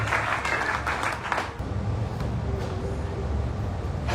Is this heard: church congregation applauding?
yes